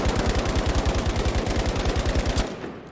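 Rapid automatic fire from a video game weapon, fired standing without recoil control: a steady loud stream of evenly spaced shots for over two seconds, then cutting off with a short decaying tail.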